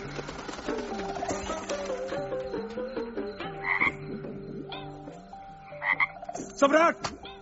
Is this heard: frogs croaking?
yes